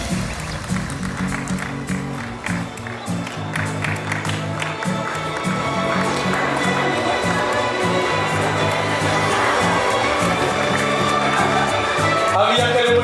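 Applause and cheering rise from a large audience at an international Rwandan movie awards ceremony, steady and dense across the whole stretch, with music playing underneath.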